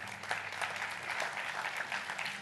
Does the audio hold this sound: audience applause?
yes